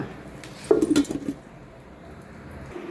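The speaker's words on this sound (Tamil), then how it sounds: "மூடி போட்டுடலாமா?" A lid goes onto a cooking pot with one short metallic clatter and clink up close, then low room quiet follows.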